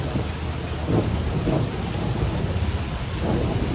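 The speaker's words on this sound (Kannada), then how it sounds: "ಜೋರಾಗಿ ಮಳೆ ಕೂಡ ಬರ್ತಾ ಇದೆ" Heavy rain pours steadily at night, with low rumbles of thunder rolling underneath throughout.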